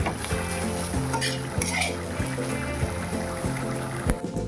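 Yardlong beans and potatoes stir-frying in a pan, with a steady sizzle under repeated scraping strokes of a spatula on metal, close and fairly quiet.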